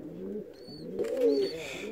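Fancy ornamental pigeons, a pair of Saxon swallow pigeons, coo softly in a loft in a low rolling murmur, with a few faint higher chirps mixed in.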